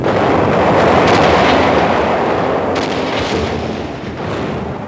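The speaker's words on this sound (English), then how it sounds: "In the dead silence and tension of the July afternoon, the artillery pieces open fire." Civil War–era artillery pieces firing in a July afternoon battle at Gettysburg, a sustained loud rumbling roar of distant cannon with overlapping booms, no voices.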